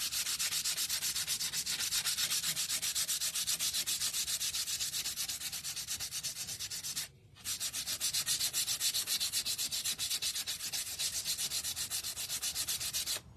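Continuous hand sanding on a wooden DIY sign to distress it, a steady dense rasping scrape close up that runs throughout with only a brief pause midway.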